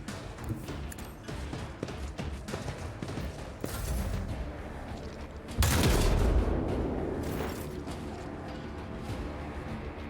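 Weapon barrage fire in the Warhammer 40,000 Rogue Trader video game: a sudden loud burst of blasts lands midway and decays into a sustained rumbling crash over the busy game ambience.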